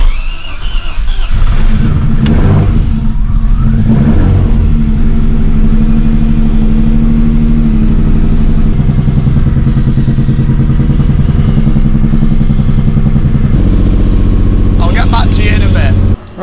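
A BMW E30 engine idles and revs loudly up close on its first drive, a strong steady drone with rising and falling pitch, while people talk over it.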